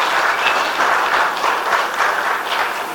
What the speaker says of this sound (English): Please give a round of applause, ladies and gentlemen